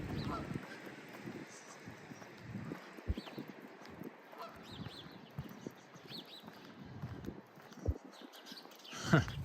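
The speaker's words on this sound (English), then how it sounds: "Goose is sitting on the railing there." A goose by a creek gives several honks over outdoor ambience, medium-distant calls scattered through the stretch, with a few soft voices in the background.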